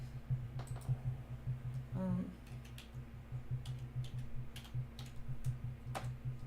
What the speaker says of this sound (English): My keyboard doesn't want to work.